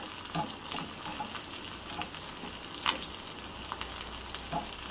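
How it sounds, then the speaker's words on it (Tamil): Oil sizzles and crackles in a pan while ingredients are sautéed for a rock fish curry, a continuous frying hiss with occasional stirring clatter, close and steady. "இதில் கொஞ்சமாக எண்ணெய் ஊற்றி வதக்குறேன்"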